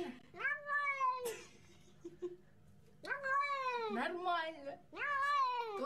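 Cat meowing, a dubbed sound laid over a cat being washed: three long, drawn-out, wailing meows spaced a few seconds apart, loud and close with faint background noise between.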